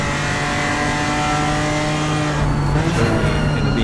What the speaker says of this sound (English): Jeremy in the BMW, and Benny's in a Porsche